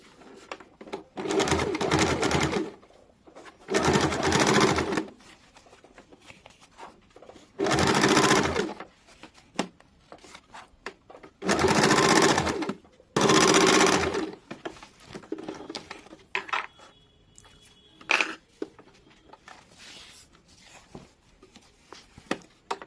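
An electric sewing machine runs in five or six loud bursts of rapid whirring, stitching a seam on a semi-salwar, each run lasting a second or two, with quiet handling noises between.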